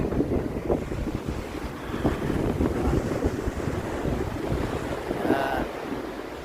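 Surf washes onto the beach at Agnes Water under heavy gusting wind buffeting the microphone, with a steady low rumble and a brief hiss of a breaking wave late on.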